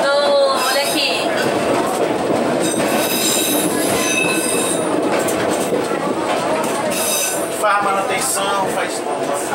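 A Cariri metro train pulls out of its garage in Crato, its wheels squealing loudly in high, wavering tones over a rumbling, clattering roll, with people talking nearby throughout.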